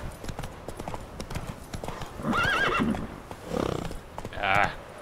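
In The Witcher 3 video game, a horse clip-clops with rapid hoof beats while whinnying in several shrill neighs, the loudest near the end, over steady background game noise.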